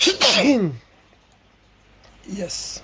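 A single sharp sneeze bursts out up close, followed by a pause and then a brief spoken word.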